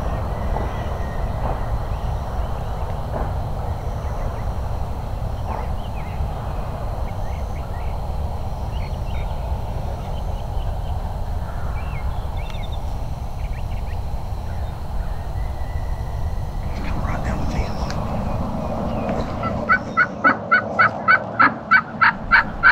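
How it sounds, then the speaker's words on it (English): Wild turkeys in a Florida orange grove: a long stretch of quiet outdoor ambience, then a loud, rapid, rattling gobble close by near the end. "There's another turkey down here to gobble."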